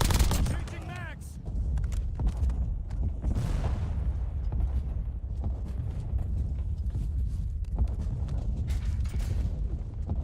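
Call of Duty Black Ops 7 warzone gunfire: sustained bursts of automatic fire and impacts continuing loudly for about ten seconds, with game voices and talk mixed in.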